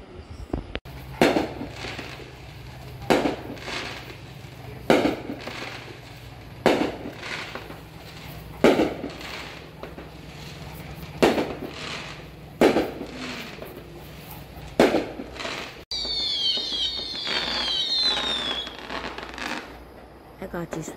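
Fireworks bang over a beach in a steady series of sharp, loud bursts a couple of seconds apart, with a whistling rocket streaking up near the end.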